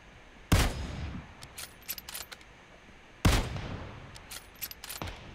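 Gunfire in a PUBG Mobile war-mode match, with two sharp, loud shots about three seconds apart, each followed by a scatter of fainter distant pops and rattling shots.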